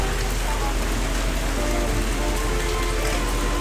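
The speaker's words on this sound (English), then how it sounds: "It's raining out here, too." Outdoor rainfall makes a constant, full hiss of drops close by, unbroken and even throughout.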